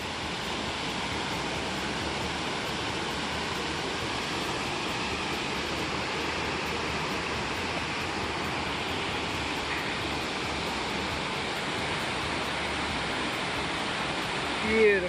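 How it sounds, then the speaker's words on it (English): Waterfall at Dix Creek Falls pouring down into the Chattooga River on Georgia's Bartram Trail, a steady, loud, broadband rush of falling water that holds constant from start to finish, with no talking. "To Dix Creek's Falls, and this is just the very top of it."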